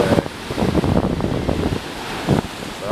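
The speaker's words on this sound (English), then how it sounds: "Waves are crazy today." Ocean surf pounds nearby in rough, choppy conditions, with a broad wash of breaking waves and gusts of wind buffeting the microphone, a heavier crash arriving near the end.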